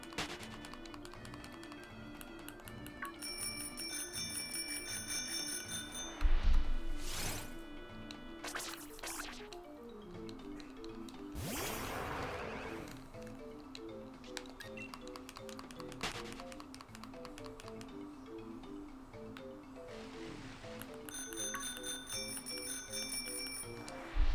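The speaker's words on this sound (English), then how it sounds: "I feel really goofy just honking my horn on this bike, ringing my bell in the middle of the water" In Pokemon Sword and Shield, a bicycle bell is rung while riding on water, heard as bursts of bright repeated dings over looping game music and occasional clicks.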